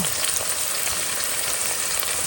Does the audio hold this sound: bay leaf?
yes